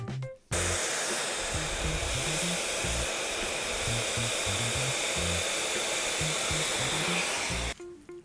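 A hair dryer with a nozzle blow-dries hair worked with a brush, a loud steady close roar running for most of the stretch, switching on at the start and cutting off near the end, with faint low thumps beneath.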